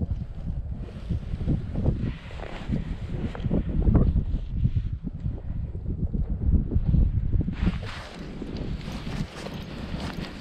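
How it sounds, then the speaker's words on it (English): Strong wind buffets the microphone on a frozen lake during ice fishing for trout, a continuous rough roar that swells and surges throughout. "this wind is brutal"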